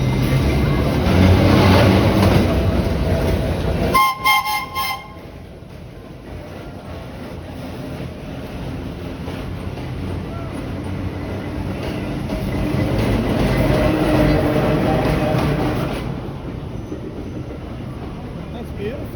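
Vintage New York subway cars, BU gate cars and AB standards, rumble and rattle along the track, a steady rolling roar with a brief clatter and screech partway through, fading and then building again.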